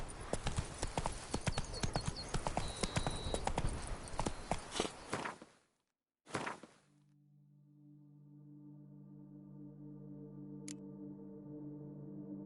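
Roach, the horse in The Witcher 3: Blood and Wine, gallops with rapid, loud hoofbeats for several seconds, then stops abruptly, leaving a low sustained game tone and hum.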